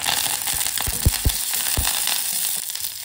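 Shallots and curry leaves sizzle in hot oil in a pan while pumpkin poriyal is being cooked. A steady hiss runs throughout, broken by a few soft thumps and clinks.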